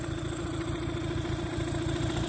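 A small carbureted engine running steadily at idle, a continuous close, loud, even chugging with a fast low-pitched pulse and no talking.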